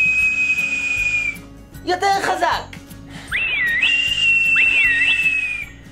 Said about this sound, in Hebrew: בואו ננסה לשרוק ביחד